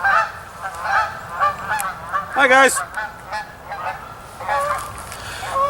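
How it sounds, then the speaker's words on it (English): A flock of Canada geese honk repeatedly as they take off, loud and near in irregular bursts, with a brief greeting spoken partway through. "We got a bunch of Canada geese taking wing here."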